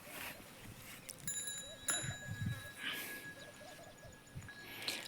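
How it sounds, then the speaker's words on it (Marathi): A small metal bell tied on a farm animal rings out with a clear, sustained tone, faint and somewhat distant, amid quiet outdoor rustling and shuffling in a field. "परत बांधतो कुठल्या तरी जनावराला शिल्लक घंटी"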